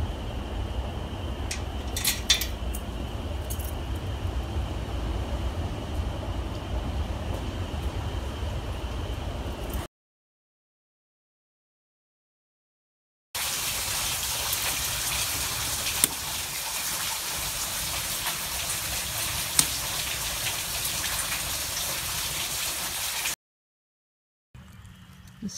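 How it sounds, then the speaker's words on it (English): Steady, dense roar of a hail storm falling, a broad wash of hailstones pelting surfaces, continuous and loud, cut off twice by abrupt silent gaps. "because of the hail."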